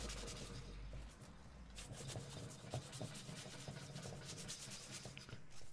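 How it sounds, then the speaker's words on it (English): Sandpaper rubbing steadily back and forth across the back of a Stratocaster guitar body, a close, continuous scratchy rasp with small irregular strokes, no voices. "We have to sand this part as well, especially there where it's the guitar normally gets more damaged when you play it."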